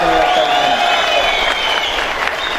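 Loud crowd applause at a Buddhist conference gathering, close and continuous clapping with a faint murmur of voices underneath.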